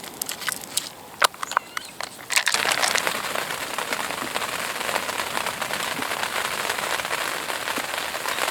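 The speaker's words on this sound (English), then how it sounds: "So as I say, the rain is coming down." Rain falls at a fishing lake: a few scattered drops tap nearby at first, then a steady, dense patter of rain on surfaces sets in and holds up close, with no voices.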